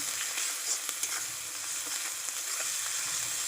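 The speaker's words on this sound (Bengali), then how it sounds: "মশলাটা একটু নাড়াচাড়া করে নেব।" Masala paste for pabda fish curry fries with a steady, dense sizzle in a pan, with soft scraping from stirring under the constant hiss.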